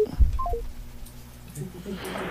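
Telephone keypad dialing: a few short, clear DTMF beeps in quick succession at the start, then a quiet line with faint background murmur and a rising hiss near the end.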